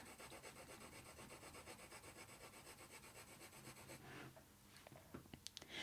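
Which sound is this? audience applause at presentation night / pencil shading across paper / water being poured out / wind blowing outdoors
pencil shading across paper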